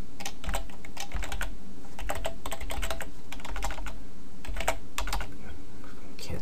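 Fast, continuous typing on a computer keyboard while coding HTML, with close, loud clustered keystrokes in bursts and short pauses, no talking.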